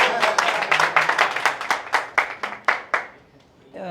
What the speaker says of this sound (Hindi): अगर पसंद आए तो तालियां बजा लो।